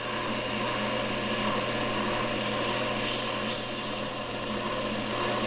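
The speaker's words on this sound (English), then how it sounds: "I like to turn my speed up so I get a smoother finish. And then just sand it down till it's smooth" A power sander working on wood at a high speed setting, heard as a steady, close, loud whirring hum that stays even throughout, with no talking.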